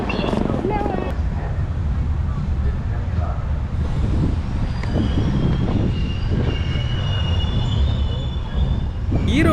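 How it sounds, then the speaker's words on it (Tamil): Chennai Mangalore Super Fast train (No. 12685) pulling out of Erode station, with loud continuous rumble of railcars, wheel squeal and clatter throughout, close and steady. "ஈரோட்லேருந்து இப்போ ட்ரெயின் கிளம்பிடுச்சுங்க."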